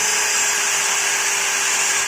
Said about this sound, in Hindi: तो सबसे पहले हम एक ड्रिल कर लेते हैं।